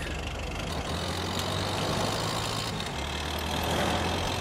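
A tractor engine idles in a video game as a low, steady, fairly quiet hum that continues unbroken with no voices over it.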